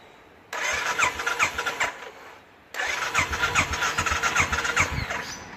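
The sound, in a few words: Royal Enfield Classic motorcycle engine starting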